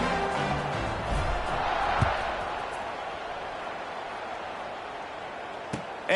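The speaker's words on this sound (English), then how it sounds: "this crowd is buzzing after that last score" Football stadium crowd buzzing after a score, a steady, broad murmur of many voices filling the space at moderate level, with a couple of faint thuds and a commentator's voice partly over it.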